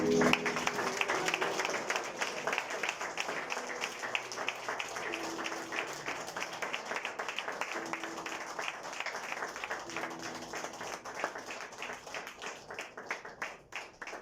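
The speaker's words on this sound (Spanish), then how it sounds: "Dale tus palmas a Cristo Jesús." A church congregation clapping at a Sunday service, a sustained round of applause from many hands with rhythmic, partly synchronized beats, steady and moderately loud before thinning out toward the end.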